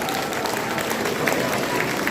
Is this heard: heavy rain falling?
no